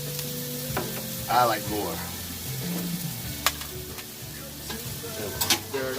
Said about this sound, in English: Stir it all up again.